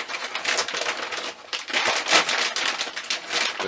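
Steady crinkling and rustling of a large plastic bag holding a magazine being opened, continuous and fairly close, with irregular crackles throughout and no talking.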